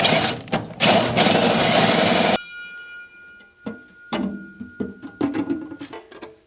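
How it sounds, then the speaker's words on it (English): A 152 mm hole saw cuts through material with a loud, close, steady grinding buzz for about two seconds, followed by scattered knocks and handling clatter. "This is a 152 millimeter hole saw."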